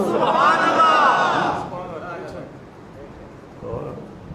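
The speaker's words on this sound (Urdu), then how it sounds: "بڑے نعرے مار" A large crowd at a religious gathering roars out a slogan in unison, a loud sustained chant that breaks off, then murmurs and a smaller swell of voices return afterward.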